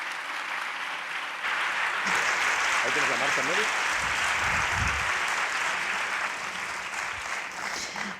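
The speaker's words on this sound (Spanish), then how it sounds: "Así que un fuerte aplauso para Ana Sánchez." An audience in a theatre bursts into loud, sustained applause, with a few voices faintly audible under the clapping.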